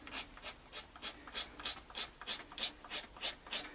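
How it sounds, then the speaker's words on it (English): A blade scraping the wooden body of an Oakcaster travel guitar makes a quiet, close, rhythmic rasping of about a dozen even strokes in quick succession with no talking. "we could either just do some more gentle work with the blade"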